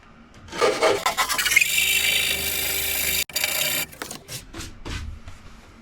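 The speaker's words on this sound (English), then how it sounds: "We're done with the sanding block." Harsh rasping strokes of a sanding block rubbing against wood, loud and close, in uneven bursts with a brief pause midway.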